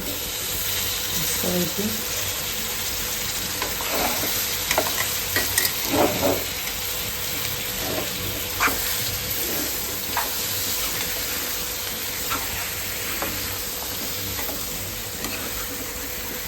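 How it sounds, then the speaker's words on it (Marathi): Spices tempering in hot oil for a Marathi curry in a home kitchen, a steady close sizzle with scattered stirring clatter throughout. "आता कालवणाला फक्त फोडणी दिलेली आहे"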